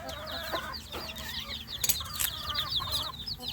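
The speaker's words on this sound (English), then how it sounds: "These are some chicks that we ordered." Chicks of Delaware hens and Rhode Island Red roosters cheep steadily in a dense, overlapping chorus of high, rapid peeps, close by and continuous, with a few louder bursts partway through.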